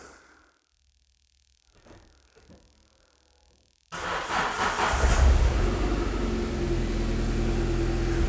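A Ford SportKA engine cranks and catches at once after a battery swap, then settles into a loud, steady running note close by, preceded by a quiet stretch with faint clicks.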